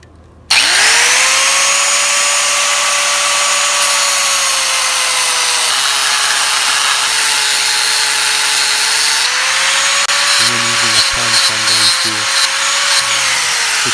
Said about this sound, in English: And grind off the remainder of the bolt.